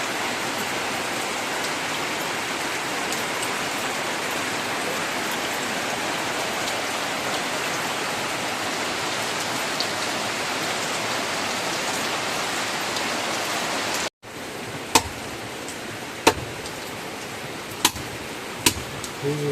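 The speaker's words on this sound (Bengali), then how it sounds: "এদিক দিয়ে বৃষ্টিও শুরু হয়েছে" Steady rain pours down in a village where a goat is being slaughtered and butchered, a dense even hiss that cuts out briefly before resuming with a few sharp drips and knocks.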